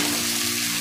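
Spices sizzling and frying steadily in hot oil in a pan while being stirred into a masala for a chicken and potato curry, a close, continuous crackling hiss without talk.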